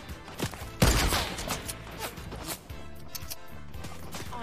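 A loud gunshot crack in a shooter video game, then fainter rapid shots and mechanical clatter continuing over a few seconds.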